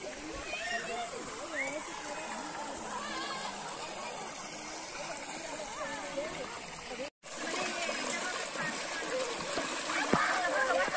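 Water pours down Gandahati waterfall in Odisha, a steady, loud rushing and splashing roar that fills the whole stretch, broken by one brief dropout near the end.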